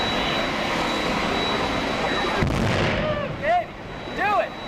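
The big guns of the battleship USS Missouri fire in a broad roaring blast, followed by a jet aircraft roar with sweeping whines, heard loud throughout.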